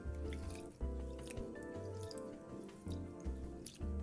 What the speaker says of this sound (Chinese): 糯米300克，洗淨幾遍